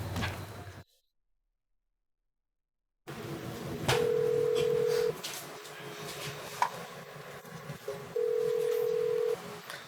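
An outgoing phone call rings out unanswered: two long, steady ringback beeps separated by a pause, clear and close over a faint background hiss, with no voices.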